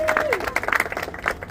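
An audience claps at a McDonald's drive-thru anniversary celebration, a brief burst of scattered applause mixed with crowd noise while a voice talks over it.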